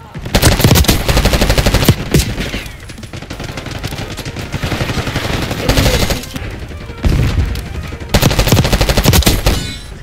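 Rapid automatic gunfire in Black Ops 6 multiplayer bursts loudly in long fast strings, broken by brief pauses between volleys.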